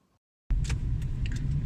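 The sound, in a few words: car engine while driving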